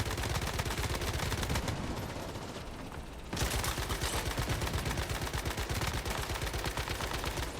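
Sustained automatic gunfire from a weapon being emptied into an enemy in the game Once Human, a dense rapid rattle of shots, loud and continuous, with a brief softer dip midway before the firing resumes at full intensity.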